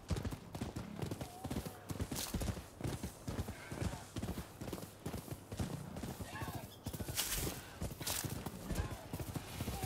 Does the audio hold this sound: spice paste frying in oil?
no